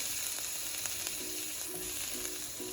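Tomatoes sizzle in a pan with cooked spices for chicken curry, a steady close frying hiss with faint scraping strokes of stirring repeating through it.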